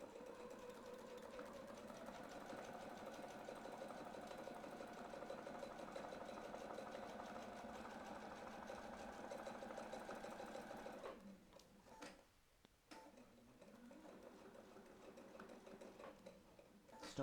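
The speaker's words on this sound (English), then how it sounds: "and we're going to sew around again." Sewing machine stitching around a circle template, a steady fast mechanical whir with ticking needle rhythm for about ten seconds, then a stop with a few clicks and a quieter, lighter run afterward.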